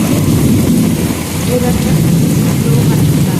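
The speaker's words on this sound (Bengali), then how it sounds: "এখন তো এই প্রচণ্ড বৃষ্টি হচ্ছে ঝড় হচ্ছে" Heavy rain pours during a storm ahead of Cyclone Remal, a dense, steady roar of falling water that stays loud and unbroken throughout, with a voice talking over it.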